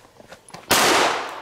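A single loud gunshot from a .357 Magnum Chiappa Rhino revolver firing a 158 grain lead flat-nose round, a sharp blast with a long ringing decay outdoors, preceded by faint background noise.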